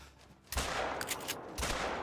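A hunting rifle in theHunter Call of the Wild fires a sharp shot, followed by a second burst a moment later, both carrying a broad outdoor echo over quiet background ambience.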